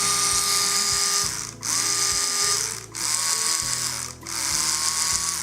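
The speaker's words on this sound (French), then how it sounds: "la brosse à dents émet un bruit différent" An Oral-B Triumph 5000 electric toothbrush hums loudly up close, cycling through modes in four pulsing stretches broken by brief dips that change its buzzing pattern.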